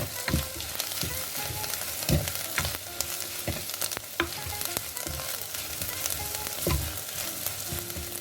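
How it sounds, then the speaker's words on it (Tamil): Onions sauté in an oiled pan for a coconut milk fish curry, a dense, close sizzle broken by regular scraping stirs of a spatula against the pan. "வெங்காயம் கொஞ்சம் வதங்கிட்டுது."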